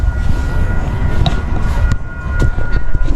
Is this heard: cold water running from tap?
no